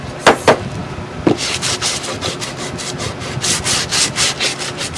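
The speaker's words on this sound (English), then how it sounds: "So it kind of clogs up the sandpaper." Sandpaper rubs back and forth over chipboard in quick, close strokes, a rhythmic scratchy rasp with a few sharper taps at the start.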